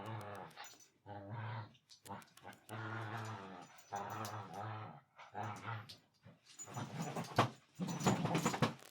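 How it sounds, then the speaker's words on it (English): An excited dachshund whimpers, growls and pants in a run of close, loud bursts while playfully tugging and ragging at things, with no people speaking. "A very excited sausage dog. Ragging everything he can possibly get his hands on."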